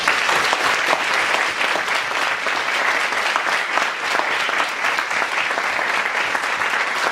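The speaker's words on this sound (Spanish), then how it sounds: "quisiera pedir un aplauso" Dense, steady audience applause at a book presentation in a university humanities faculty, loud and sustained for the whole stretch with no voices over it.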